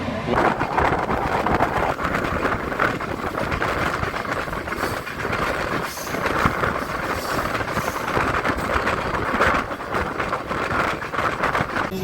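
An express train runs on the Western line out of Kalyan, heard from on board as a continuous loud rumble with rhythmic wheel clatter and wind buffeting the microphone.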